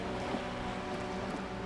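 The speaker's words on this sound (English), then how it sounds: "The waves lapping at the land." Waves lap at the Revachol coast in Disco Elysium as a steady, soft wash of water under a low continuous rumble, even and unbroken with no voices.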